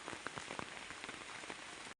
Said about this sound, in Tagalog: inabot na po tayo ng lakas ng ulan